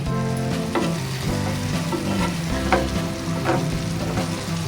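Masala-stuffed bitter gourds frying in a pan, a dense continuous sizzle with a low steady hum running through it and a few brief louder crackles, close and alone.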